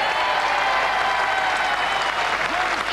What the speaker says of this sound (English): Shrill voices of the ladies around this green lead the applause